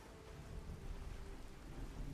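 In Fallout 4, a weather mod brings rain and thunder to a coastal cottage, a dense steady hiss of rainfall over a low rumbling wash, with no voices.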